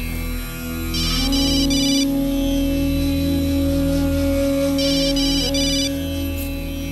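A telephone rings in a household scene, two bursts of electronic trilling over a steady hum, fairly clear and close, with no speech.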